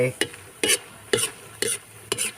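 Beaten egg being stir-fried in a pan, with five sharp rhythmic scraping strokes of a spatula at about half-second intervals over a faint sizzle.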